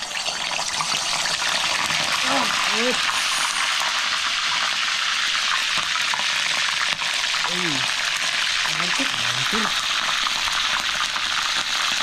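Beef pieces go into hot cooking oil for a beef steak, making a loud, continuous hissing sizzle. A few faint chirping sounds rise above it now and then.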